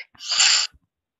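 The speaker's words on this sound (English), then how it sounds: "if you hear me uh, like sneezing" A single sharp sneeze close to the microphone, a brief hissing burst followed by a faint breath, then silence.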